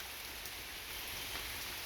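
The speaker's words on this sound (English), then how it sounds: "A little respite from all the heat. And lots of rain is an awesome thing." Steady rain falling during a heat-breaking downpour, a dense even hiss of drops on surfaces heard close and unbroken throughout.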